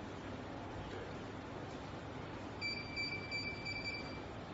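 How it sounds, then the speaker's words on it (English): Audio alarm from a Hikvision thermal body-temperature camera signalling an abnormal temperature, a thin high electronic beeping that starts about midway through and holds over a steady background hiss. "if the person, his temperature is abnormal, so the display will give you a strobe light and audio alarm."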